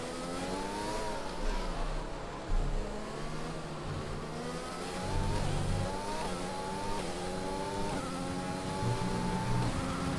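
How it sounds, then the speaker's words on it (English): Formula 1 race car engine from the F1 2020 racing game at the Spanish Grand Prix, revving up and down steadily through corners with rising and falling pitch, loud and continuous throughout. "whip this car through the corners now."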